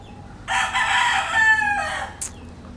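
A rooster crows once, loud and close, in a single sustained call lasting over a second, among chickens and chicks on a Philippine farm. A brief high chirp follows, with no talking.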